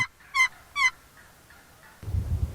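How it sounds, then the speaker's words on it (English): Two loud, rapid gobbling calls from a wild turkey tom, close by, followed by a rustling burst of noise. "the toms gobbling back and forth"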